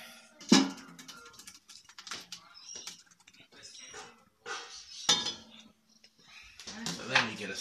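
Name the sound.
spoon scraping sauce juices out of a pan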